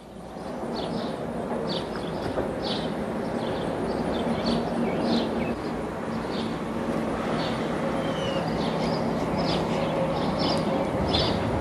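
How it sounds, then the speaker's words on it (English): Birds chirp in repeated short calls from the trees above a flooded residential neighborhood, steady and moderately distant over a constant background hiss, with no one talking. "You hear the birds up in the trees."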